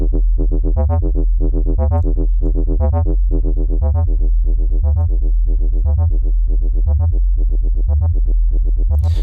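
FM synthesizer tone from the Six Sines plugin with added attack, a repeating sequence of bright, harmonically rich synth notes over a steady low bass pulse, loud and continuous with no talk.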